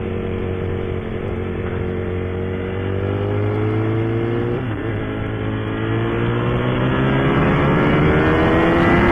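A Ducati Panigale V4 superbike engine revs close by, a loud, rasping note rising and falling through several blips before climbing steadily higher, with no talking.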